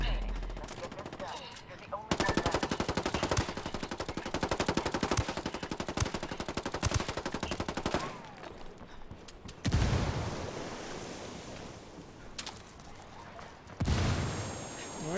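Rapid bursts of automatic gunfire in a military shooter game, sustained crackling volleys that cut off abruptly and then resume, with quieter pauses and a final burst toward the end.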